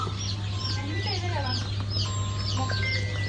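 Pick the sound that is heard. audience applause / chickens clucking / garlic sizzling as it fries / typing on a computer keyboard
chickens clucking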